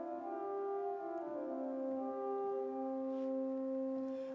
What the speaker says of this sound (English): So first of all, we have our diapason,